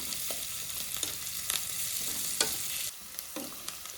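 Tempering for avalakki uppittu frying in a pan, a steady close sizzle with occasional sharp crackles and pops, spoon stirring against the pan, no voices.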